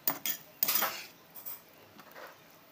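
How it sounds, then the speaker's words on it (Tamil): A utensil scrapes and clinks against a pan while stirring spicy prawn masala, with a few quick metallic strokes up close that thin out into softer, quieter scrapes. "இப்போ இது எல்லாத்தையும் வந்து போட்டு நல்லா வந்து கிளறி விட்டுக்கணும்"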